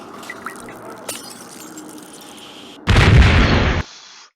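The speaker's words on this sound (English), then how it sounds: "Explosion everywhere." Explosion in a video game: faint game ambience with a few small pops, then one loud, broad blast that holds for about a second before cutting off sharply.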